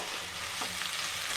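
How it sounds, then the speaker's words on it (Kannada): Onions sizzling in hot oil, a close, steady and fairly loud frying hiss that continues unbroken throughout with no voices. "ಎಣ್ಣೆ ಕಾದಾದ್ಮೇಲೆ ನೀವು ಒಂದು ಸ್ವಲ್ಪ ಈರುಳ್ಳಿ ಹಾಕೋಬೇಕಾಗತ್ತೆ. ಆವಾಗ ಈ ಥರ ಸೌಂಡ್ ಬರುತ್ತೆ."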